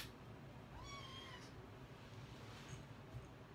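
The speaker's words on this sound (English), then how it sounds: "Kittens. Gotta love them." Kittens meowing faintly at a distance, a couple of thin rising mews over a low, steady background hiss.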